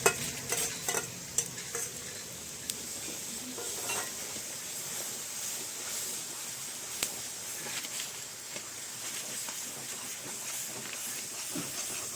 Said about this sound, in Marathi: आता आपण हे तेल सुटेपर्यंत परतून घेणार आहोत